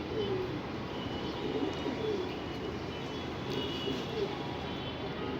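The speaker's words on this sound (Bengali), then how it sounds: "এটা একটা স্মল সাইজের কবুতর।" A small pigeon coos softly in repeated low murmurs, close by, against a steady background hum with some faint talk.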